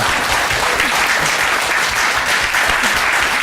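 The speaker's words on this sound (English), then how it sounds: "Already an applause, that's great." Applause from the audience at a panel discussion on Indiana's same-sex marriage amendment as speakers are introduced, loud, even and continuous clapping with no break throughout.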